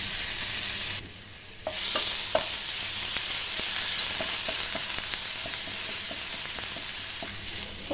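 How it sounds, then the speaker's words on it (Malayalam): Crushed fennel, ginger and garlic sauté in hot oil. A strong, steady sizzle dips briefly near the start, then carries on with regular light spatula taps and stirring clicks throughout. "ഒന്ന് വഴറ്റി കൊടുത്തിട്ടുണ്ട്."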